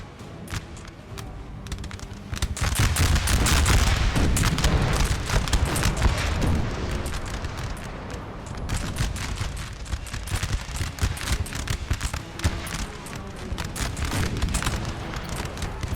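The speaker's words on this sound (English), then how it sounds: "We've got the Austrian army here firing into the French troops." Austrian army musket volleys in Napoleon: Total War crackle in dense rolling bursts with deep booms, loud and sustained, thinning to scattered shots afterward.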